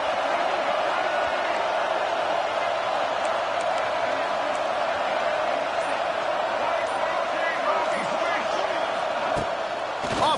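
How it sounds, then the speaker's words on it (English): Steady roar of a packed stadium crowd in a college football video game, a dense continuous wash of cheering and noise with occasional thumps and shouts rising out of it. "This crowd ready to make its presence known."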